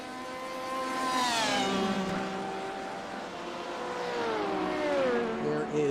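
LMP prototype race cars in a Sebring sim racing game sweep past, engine notes rising and then falling in pitch as they go by, loud and close, with a second car following a few seconds later.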